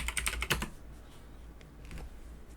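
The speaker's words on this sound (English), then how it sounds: "we'll go ahead and type in that IP." An IP address being typed on a computer keyboard, a quick close burst of clicking keystrokes at first, then a pause and a few more scattered taps, with no talking.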